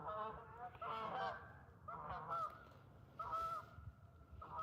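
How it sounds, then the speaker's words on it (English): Canada geese flying overhead at a lake honk repeatedly in a loose series of calls, moderately distant, with a faint outdoor background. "Here comes some Canadian geese. See them flying overhead."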